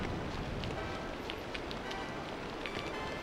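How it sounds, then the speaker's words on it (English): Steady rain falls in the video game Aidyn Chronicles, a constant soft wash of hiss with faint scattered drops, quiet and unbroken throughout. "And now it's raining."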